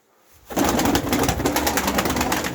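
Pigeons in a breeder's loft coo and call in a dense, continuous chorus that starts abruptly after a brief quiet moment, close and fairly loud, with no talking.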